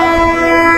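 A train horn sounds loud and close as a train passes a roadside hotel in Sirajganj, one steady sustained blast filling the clip with no talking.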